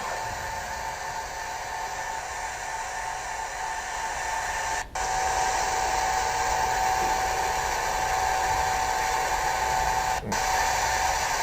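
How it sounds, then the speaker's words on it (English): An industrial spin dryer whirs continuously beside a plastics extruder as it dries freshly cut plastic pellets, a loud steady broadband roar with a faint tonal hum and two brief dips. "This is a spin dryer right here."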